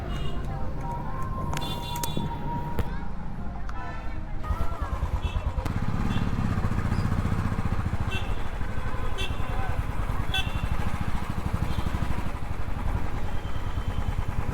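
A motorcycle runs along a road near Tirumala, a steady engine drone with wind rush and road noise, preceded by a few sharp clatters and handling knocks, fairly close and continuous.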